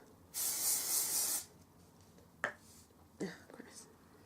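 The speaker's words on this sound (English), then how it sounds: "you can spray it again" A single burst of hairspray hisses for about a second, followed by a few faint clicks and light handling noises in a quiet room.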